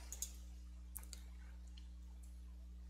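Computer mouse clicks on a Create button while setting up a Synology DS918+ NAS: a few sharp, faint clicks near the start and around one second, over a steady low electrical hum.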